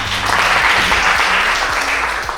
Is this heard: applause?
yes